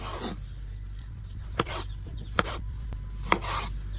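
Knife halving fresh desi tomatoes on a board, a few sharp separate cuts spaced about a second apart over a low steady background hum, with no speech.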